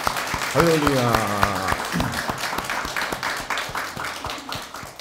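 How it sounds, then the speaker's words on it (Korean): A church congregation at a donation ceremony breaks into brisk, crisp applause, close and steady, while a voice speaks over the start. "담아서 한번 박수 한번 하겠습니다."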